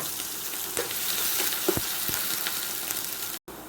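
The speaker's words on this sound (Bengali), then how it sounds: "সরিষার তেলের ভিতরে এখন আমি কিছু পেঁয়াজ দিয়ে পেঁয়াজটাকে একটু ব্রেস্তা করে ব্রেস্তা করে নেব" Onions frying in hot mustard oil give a continuous close sizzle and crackle, with a few sharper pops and light stirring scrapes scattered through.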